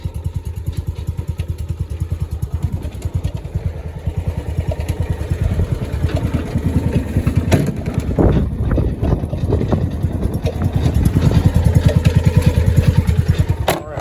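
A John Deere 1200A with a severely varnished carburetor idles steadily up close, a low rumbling engine with a brief louder surge mid-way, and someone speaks briefly over it.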